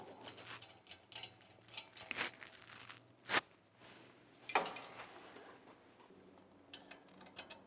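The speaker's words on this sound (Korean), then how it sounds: "자, 완전히 꼈으면 볼트 먼저 조아주시고" A bolt being tightened on a walk-behind cultivator, heard as faint scattered ratcheting clicks and a few sharper metallic knocks at close range, with no talking.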